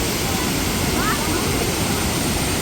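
Aruvikuzhi waterfall in Kottayam, a steady, loud roar of rushing water filling the whole clip as dense broadband noise, with no pauses and no speech.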